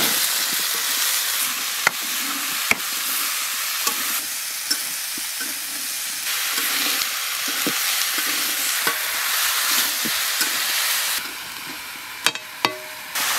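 Bottle gourd and potatoes frying with ground spice paste in a pan, a steady loud sizzle with repeated sharp scraping and stirring clicks throughout, and no voices.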